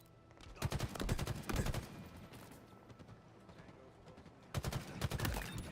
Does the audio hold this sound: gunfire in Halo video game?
yes